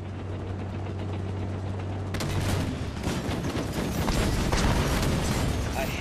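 Dense rapid gunfire from the Halo 5 Warzone game, a continuous fusillade of loud shots and bursts, with a brief voice heard before the firing erupts.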